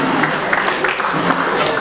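Audience applause honouring Jean-Louis Moanda at a memorial gathering, a dense steady patter of clapping filling the hall throughout, with crowd murmur mixed in.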